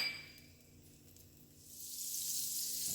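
Unsalted butter melting in a pan over moderate heat, a soft steady sizzle that builds and brightens toward the end, with a faint clink near the start and no talking.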